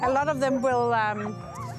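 Greenlandic sled dogs in Greenland yip and whine nearby in a quick run of high, wavering cries with short barks, fairly faint and close.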